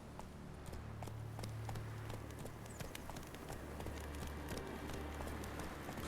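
Roach, a horse in The Witcher 3, gallops with steady rhythmic hoofbeats, quiet and continuous, over a soft low ambient drone.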